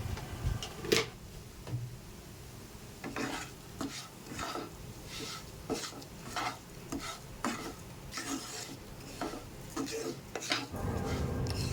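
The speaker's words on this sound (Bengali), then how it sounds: "চাল আর ডালটা প্রায় ভাজা হয়ে গেছে" Rice and lentils fry in a pan as a utensil stirs and scrapes in repeated strokes, with light sizzling beneath and a louder rush at the end.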